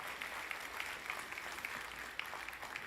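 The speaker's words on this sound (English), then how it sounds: "Another huge round of applause for Simon," Steady applause from a tech conference audience in Toronto, dense clapping sustained throughout at an even level with no voices standing out.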